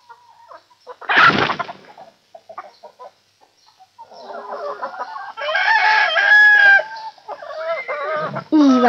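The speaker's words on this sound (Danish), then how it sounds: "Så skal vi ud til hønsene og kyllingerne." Hens, chicks and a rooster in a henhouse on a farm, with a sharp squawk, scattered clucks, then a long loud rooster crow followed by more cackling, close and clear in a 1951 recording.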